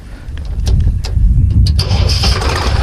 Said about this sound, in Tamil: இந்த வண்டியோட சவுண்ட் எல்லாத்தையுமே ஓட்டி காமிக்கிறேன், பாருங்கள் எப்படி இருக்குன்னு.